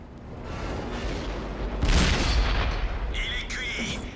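A heavy tank's cannon firing in World of Tanks, one loud deep boom in the middle, with gameplay noise and someone talking around it.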